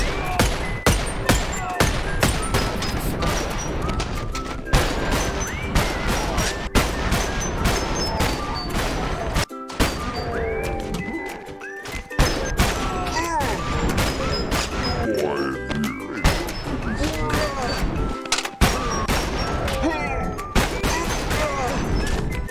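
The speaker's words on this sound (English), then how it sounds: "I just shot myself in the hand." Rapid gunfire rings out in modded Bonelab VR, with sharp repeated shots and bursts spaced throughout, a few brief pauses in between, and a voice talking at times.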